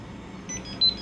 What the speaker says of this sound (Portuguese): Porque eu coloquei o timer nela, mas vocês lembram que eu coloquei 3 minutos.